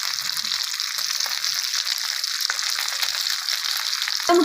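Rupchanda (pomfret) fish fries in a pan with a steady, crackling high sizzle that continues evenly throughout, close and fairly loud, with a brief clatter at the very end.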